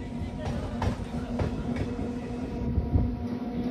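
A local DEMU train rolls into Sevok station in the Dooars, a steady low rumble and hum with faint rhythmic wheel clicks throughout, heard from on board with some voice mixed in.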